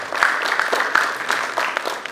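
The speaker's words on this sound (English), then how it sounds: "So big round of applause for all of them." Audience applause at an institute's 49th foundation day function, a steady wash of clapping from a seated crowd, moderately loud and sustained throughout without any voices over it.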